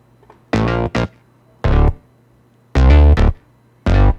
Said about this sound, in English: This right here is a Trillion, but it's also layered with a funk bass from Diva.